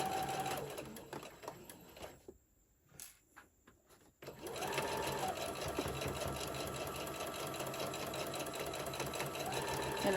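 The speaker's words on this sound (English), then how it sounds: "I'm going to just sew all the way down, just lining my presser foot up with the edge of my fabric" A sewing machine stitches fabric for a book pillow, running steadily at close range, pausing briefly midway before resuming a continuous mechanical whir and rapid needle clatter.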